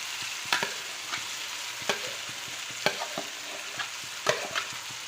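Potatoes stirred into a sizzling egg curry in a pan, a steady soft fry broken by sharp scraping strokes of the spoon at irregular intervals, close and moderately quiet, no voices.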